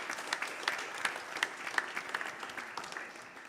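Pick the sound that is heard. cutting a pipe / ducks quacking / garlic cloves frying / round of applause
round of applause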